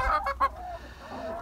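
A newly arrived Ameraucana hen, a blue-egg layer, clucks in a backyard coop: three quick, close clucks followed by softer, drawn-out murmuring.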